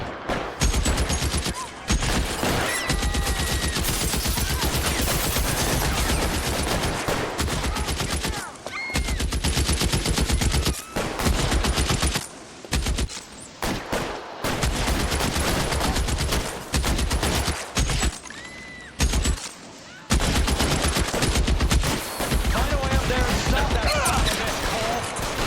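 Gunfire in the crime video game L.A. Noire, loud bursts of rapid shots and volleys filling most of the stretch, broken by short quiet gaps, with a voice speaking at times between them.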